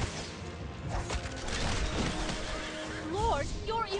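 Horses whinny during a battle in the strategy city-builder game Infinity Kingdom, several rising neighs near the end over clashing combat sounds and game music.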